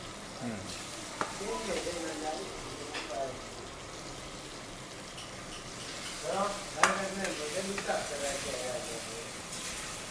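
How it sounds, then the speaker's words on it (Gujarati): Onions fry in a pan for a quick hotel-style green onion, papad and tomato curry, a steady sizzle broken by a few louder stirring scrapes, with faint voices in the background. "હવે આપણે નાખ્યું છે બીજી ડુંગળી આપણી સતળાઈ જાય એટલે આપણે એમાં નાખીશું ટામેટા"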